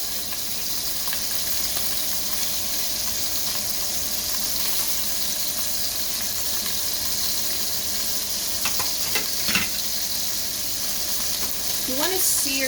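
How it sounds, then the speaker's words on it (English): Italian sausage sears in a pan with a steady, broadband sizzle throughout, joined by a few brief clinks and scrapes near the end. "we're just going to give that a light sear on all sides"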